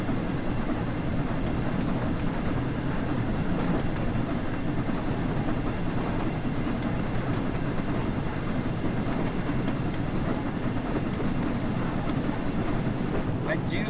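Flying Scotsman steam locomotive on the remastered West Somerset Railway in a train simulator, rolling steadily with continuous wheel and track rumble, a constant mid-level drone with no distinct chuffs standing out.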